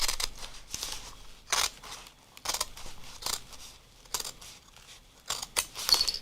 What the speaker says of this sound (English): you can actually cut with scissors by turning them upside down and cutting backwards